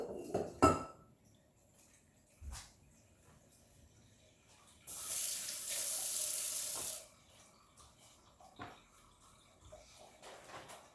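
Kitchen tap water running into a container in a sink for about two seconds, a steady hissing gush, framed by scattered clinks and knocks of dishes and utensils.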